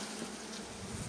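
Honey bees from a brood super give a steady, dense buzzing hum as the frame is shaken to clear them, with a close, continuous swarm drone and no pauses.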